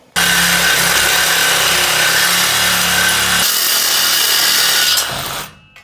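A power saw grinds loudly through a truck's metal exhaust muffler for several seconds, its harsh whine shifting pitch partway before cutting out abruptly.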